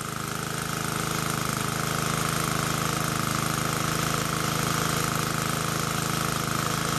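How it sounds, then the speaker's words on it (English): A Baja mini bike's small engine runs through a new custom exhaust pipe, a loud, steady, buzzing drone held at constant idle close by, with no voices. "Pretty much my mini bike running"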